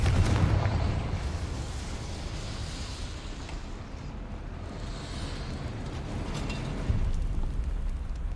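Confringo blasting spell explosion in the game Hogwarts Legacy, a dense rumbling blast with low booms and crackling debris, sustained and loud, with a second thump near the end.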